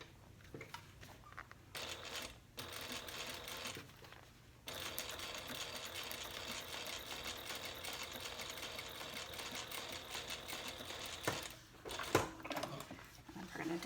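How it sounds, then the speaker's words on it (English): Domestic sewing machine top stitching both sides of a handbag bottom band at a long 4.5 stitch length, running in a steady continuous whir at moderate level after a few short starts, with quieter pauses at the beginning and near the end. "we're going to top stitch on both sides"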